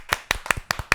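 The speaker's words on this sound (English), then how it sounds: "Thank you for clapping, Mike, because that slap on the leg was" Five sharp, evenly spaced hand slaps on a leg, close and distinct, each a crisp smack with a short decay, alone without talk.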